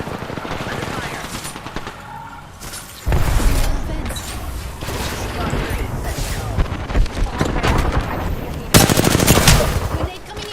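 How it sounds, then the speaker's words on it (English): Gunfire in the Apex Legends video game: loud, dense bursts of automatic fire and heavy impacts, with a lull early on before sustained shooting, and a player talking over parts of it. "Getting shot at."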